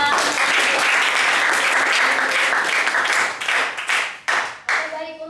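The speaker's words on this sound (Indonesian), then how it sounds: "Saya akan tepuk tangan bagi mereka." A classroom of students claps together for a group that has just presented, dense and loud at first, then thinning into a few scattered claps before stopping.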